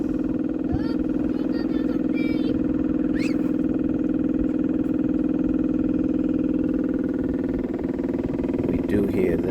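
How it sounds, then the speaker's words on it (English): A Cummins Onan 7.5kW quiet diesel generator under rebuild hums steadily and close by as its fuel pump runs, with a constant low drone throughout and brief voices and faint rattles over it. "The fuel pump is pumping up fuel."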